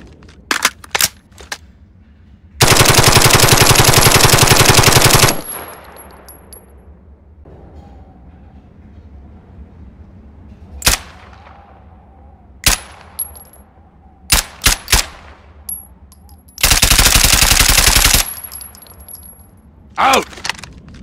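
An M4A1 rifle fires in a video game: two sustained full-auto bursts of about two and a half and one and a half seconds, separated by scattered single shots, short clicks and metallic clinks.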